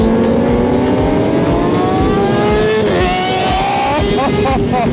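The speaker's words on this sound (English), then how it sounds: "The MT can actually rev pretty fast." A Yamaha MT motorcycle revs hard on a busy street ride, its engine note climbing in rising sweeps near and loud, with other engines droning around it and a voice talking over the noise.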